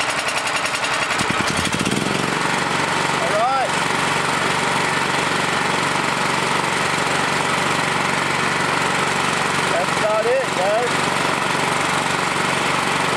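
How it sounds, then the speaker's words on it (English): A tri-fuel generator engine idles loudly and steadily up close, a continuous rough mechanical drone with a brief rev change early on, and faint voices partly buried under it. "Adjust it to where it idles the best."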